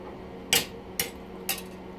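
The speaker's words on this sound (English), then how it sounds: "I guess we're gonna have to use the hammer" Three sharp metallic hammer knocks about half a second apart, striking seized parts to drive them out of a bicycle rim during a teardown, close and clear over a quiet background.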